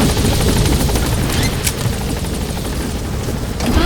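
The Pequod helicopter in the video game Metal Gear Solid 5 hovers at a landing zone, a loud, steady, close rotor roar with dense chopping wash throughout and no speech over it.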